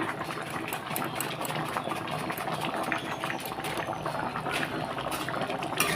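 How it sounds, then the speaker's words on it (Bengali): A pot of meat curry boils on the stove with a faint, steady bubbling and popping that runs evenly throughout. "এটা টক টক করে পুরো ফুটে গেছে"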